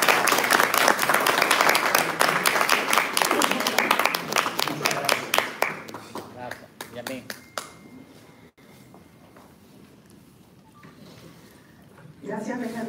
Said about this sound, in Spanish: De manera que un aplauso